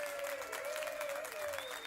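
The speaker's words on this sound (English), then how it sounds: "that's enough applause" Studio audience applause at the close of a comedy show, a steady wash of clapping throughout, with a faint sustained tone running beneath it.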